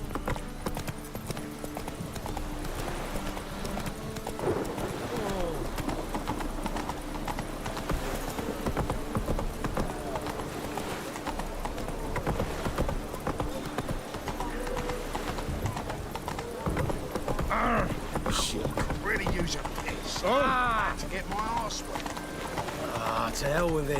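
Hooves clip-clop in a rapid gallop as a horse runs in The Witcher 3: Wild Hunt, with occasional whinnies and someone talking over the steady rhythm.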